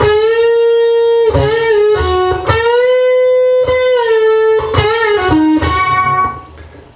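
A clean electric guitar plays a slow, expressive phrase of sustained notes that bend up and fall back, loud and close, fading at the end.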